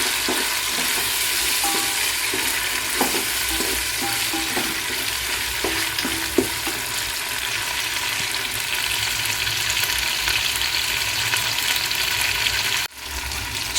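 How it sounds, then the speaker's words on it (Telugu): Tomatoes fry for a large batch of pulav, a loud, continuous sizzle close by with intermittent crackles and pops, and a brief dip near the end. "చూడండి టమాటాలు బాగా వేగుతూ ఉన్నాయి."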